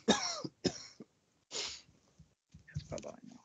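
Several sharp, harsh coughs in quick bursts close to a headset microphone, separated by short pauses, with a brief rustle at the end.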